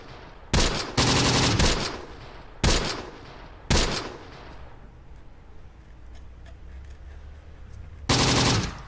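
Loud bursts of machine gun fire in the video game Close Combat: The Bloody First, three sharp volleys close together early on, then a quieter lull with faint distant rattles before a final burst.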